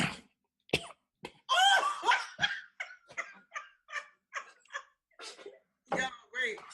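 A person coughs repeatedly in quick bursts, several short harsh coughs close to the mic, with brief talk and a laugh around them during a casual conversation.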